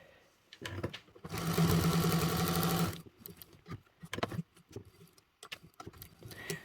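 A sewing machine topstitches a bag handle with a 1/8-inch seam allowance, a steady loud run of about a second and a half, then stops, followed by quieter handling clicks and rustles.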